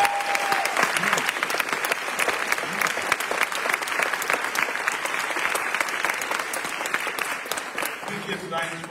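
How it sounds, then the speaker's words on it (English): At an annual university lecture event, the audience gives a long, loud round of applause with crisp individual claps forming a dense steady roar, briefly overlapped by a voice near the start and tapering slightly at the end. "Y'all give her a round of applause as she comes."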